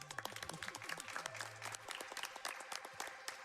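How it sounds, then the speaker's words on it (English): Applause from a small group at a speedrun event, brisk uneven claps close by, with a few low murmuring voices underneath. "Yeah, clap up for that"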